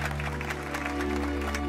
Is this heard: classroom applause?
yes